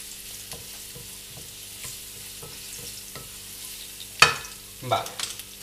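Garlic sizzles in hot oil in a pan while a utensil stirs it with soft rhythmic scrapes, ending in a couple of louder clacks against the pan, the frying hiss steady underneath.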